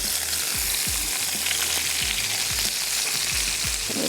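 Tomatoes and onion sizzle loudly on a grill pan for Persian kabab, a dense steady hiss close up with repeated low knocks and scrapes as the vegetables are placed and moved.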